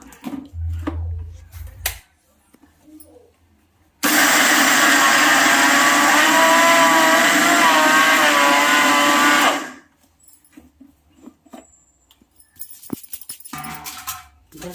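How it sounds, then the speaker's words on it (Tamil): A mixer grinder jar runs on soaked rice for about six seconds, a loud steady whirring grind that starts abruptly and cuts off, with quiet handling noises before and after. "அதுக்கப்புறமா நம்ம மிக்சி ஜாரில் போட்டு அரைச்சி எடுத்துக்கலாம்"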